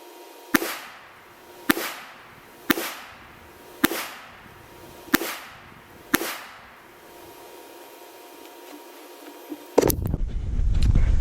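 Six sharp, loud pistol shots from a Smith & Wesson Bodyguard 380 micro compact fire at a steady pace about one second apart, each followed by a brief echo, then a pause before a louder rush of noise at the end.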